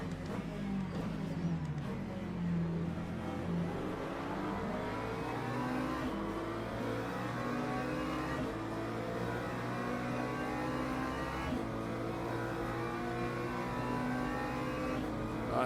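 Race car engines roar and rev continuously in Le Mans Ultimate, with a Ford Mustang and other GT cars running close together, overlapping engine tones rising and falling as cars pass and shift.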